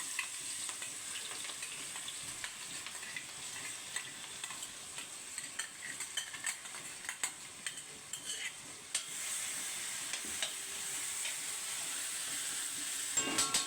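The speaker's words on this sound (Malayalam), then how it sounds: "ഇഞ്ചി പച്ചമുളക് വെളുത്തുള്ളി പേസ്റ്റ് ഞാൻ ഇതിൽ വെളിച്ചെണ്ണയിലോട്ട് ഇടുകയാണ് വെളിച്ചെണ്ണ ചൂടായി" Ginger, green chilli and garlic paste frying in hot coconut oil for a chicken curry, with a steady close sizzle and hiss and intermittent stirring scrapes throughout.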